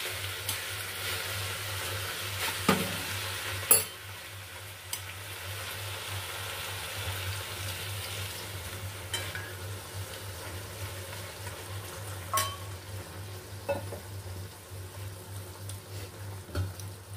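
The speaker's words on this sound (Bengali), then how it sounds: "তাই ডাঁটাটা সিদ্ধ হওয়ার জন্য আমি সামান্য একটু জল দিয়ে দেবো।" Vegetable stems simmering with tomato and greens in a pan for a fish-head chachra, a soft steady bubbling sizzle with occasional sharp clinks of a spoon stirring, over a low constant hum.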